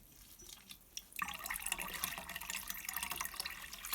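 Beeswax rinsed by hand in about two litres of warm water, heated to roughly 50 degrees, starting with a few drips and then a steady, close splashing and trickling like running water that lasts to the end.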